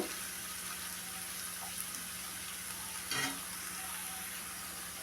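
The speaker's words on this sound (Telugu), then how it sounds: "కారం వేసుకొని కొంచెంసేపు వేపాలి." Okra frying in a pan with chili powder added, a steady low sizzle running throughout with a brief louder stir or scrape near the middle, no voices.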